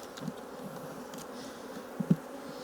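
Honeybees buzz steadily around an open hive during early-season splits while frames of brood are handled, a soft continuous hum with a couple of brief louder bumps near the end.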